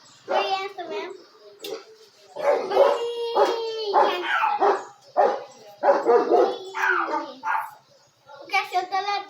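A dog that has come in off the road barks and howls in drawn-out, repeated bursts close by, with a voice and other talking mixed in.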